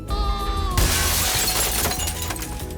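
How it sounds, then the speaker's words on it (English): A glass window shatters in an animated film, a sudden loud crash of breaking glass that bursts in after a sustained musical tone and is followed by scattered tinkling debris and dramatic score. "he falls and violently crashes through a window"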